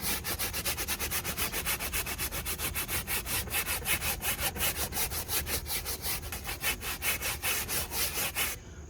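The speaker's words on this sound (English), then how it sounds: "It's just a stiff bristle brush. We're gonna give it a little scrub, a little light agitation." A stiff bristle brush scrubs a stained carpet, making rapid rhythmic back-and-forth rasping strokes, close and continuous for several seconds before stopping.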